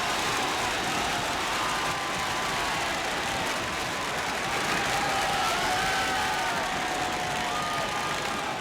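A packed football ground roars with sustained cheering and applause as Queens Park Rangers supporters celebrate a goal, a dense, steady wall of crowd noise from start to finish with no gaps.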